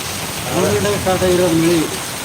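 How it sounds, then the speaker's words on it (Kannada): Heavy nighttime downpour in Davanagere, flooding into a house, pours in a steady, loud wash of noise while a voice speaks briefly over it. "ಅಯ್ಯಪ್ಪ ಯಾವ ರೇಂಜಿಗೆ ಐತೆ ಅಂದ್ರೆ ಮಳೆ ನೋಡ್ರಿ"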